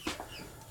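Hens in a backyard chicken coop clucking briefly, a couple of soft close clucks with no talk.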